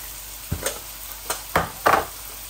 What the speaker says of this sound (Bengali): এখন আমি একটু হলুদ দিয়ে দিচ্ছি।